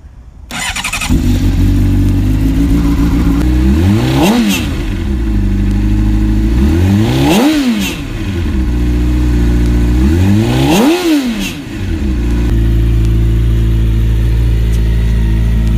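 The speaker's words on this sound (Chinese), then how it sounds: "接下来大家听一下发动机声浪。" A Honda CBR600RR sport motorcycle engine idles loudly up close, then revs sharply three times, each rev climbing and falling back to a steady idle.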